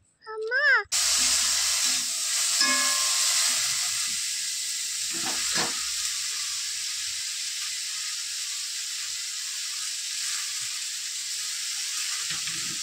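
Leafy greens curry sizzles in a pan with a steady, bright hiss that holds loud and even throughout, after a brief voice at the start and occasional faint clinks.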